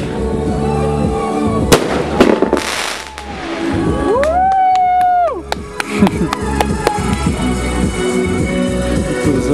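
Fireworks go off at a birthday celebration, a series of sharp cracks and bangs mixed with rising whistles, fairly close and loud with voices and background noise around them.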